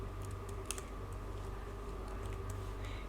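Rust code being typed on a computer keyboard, a quiet irregular patter of key clicks over a steady low hum, close and alone with no talk.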